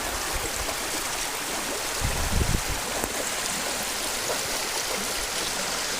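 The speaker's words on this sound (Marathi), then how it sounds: "रस्त्यावर एक फूट पुराचे पाणी आहे" Floodwater about a foot deep flowing across a road between Kolhapur and Gaganbawda rushes with a steady, dense wash of sound, uniform and close throughout with a brief swell of turbulence midway.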